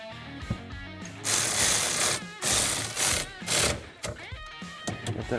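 Mechanical ratcheting and clattering bursts from a bolt being tightened on the steering assembly of a Can-Am Maverick Sport during a power-steering install, loud and close, arriving in several runs with short pauses between.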